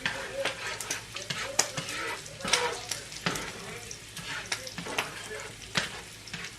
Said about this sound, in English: So the eggs don't stick to the pan.